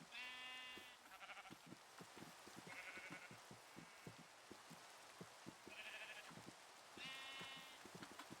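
Sheep in Minecraft bleat in several short, wavering calls spread through the scene, heard over steady rain on a surface with scattered small clicks and taps.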